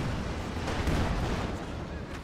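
Explosions and artillery fire in the Company of Heroes 2 video game, a dense, continuous rumbling barrage of blasts and booms that stays loud throughout with no clear gaps.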